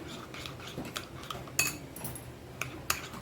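A spoon mixing garam masala and spice powders in a bowl for Hyderabadi paneer masala: light scattered metallic clinks and taps at an irregular rhythm, faint and close, over a quiet background.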